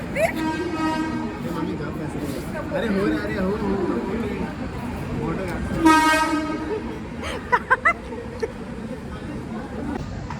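Busy railway station ambience with rumbling and a loud train horn blast, people talking throughout, and a few sharp clanks near the end.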